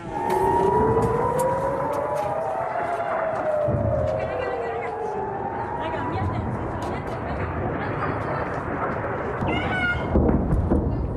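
Civil defense air raid siren wailing with rising and falling tones that cross each other, loud and continuous over about eleven seconds, with distant voices and background noise during a rocket alert.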